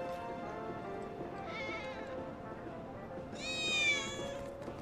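Cats in Final Fantasy VII Remake meow twice, a short cry near the middle and a louder, longer one near the end, over a low ambient game backdrop.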